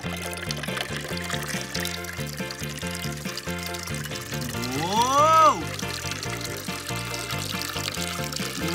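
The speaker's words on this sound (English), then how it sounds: "let's add our water." Water is poured steadily into a container while making a simple lemonade-style drink, running under light background music with a brief rising musical swell midway.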